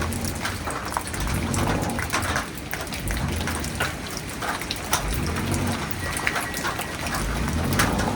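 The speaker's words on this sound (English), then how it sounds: "This is what you don't like to see when it's raining" Steady rain pattering on surfaces, dense and close, with scattered louder drops and a low rumble underneath, no voices.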